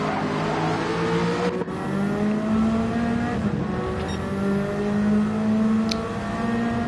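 Nissan Silvia race car in a racing video game, its engine droning steadily at high revs with rising and shifting tones, close and continuous throughout, other cars whirring faintly behind.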